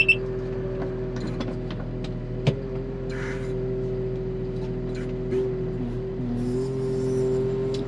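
A Scag V-Ride 61-inch stand-on mower with a 38 hp Kawasaki engine drives along with a steady engine drone, a few clanks and knocks, and a slight rise in engine tone toward the end.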